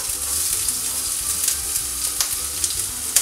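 Diced ginger hitting smoking-hot vegetable oil in a wok for cashew nut chicken, a bright, crackling sizzle with scattered pops and stirring clicks, close and steady without speech.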